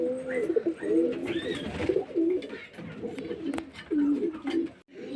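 Young domestic pigeons, freshly bathed and sitting fluffed up, coo in repeated low, rolling phrases close by, with a few overlapping calls.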